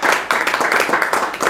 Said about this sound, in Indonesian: Berikan sorak-sorai buat kita.